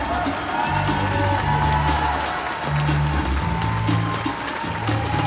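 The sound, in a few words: audience applauding and cheering as William Shatner comes on stage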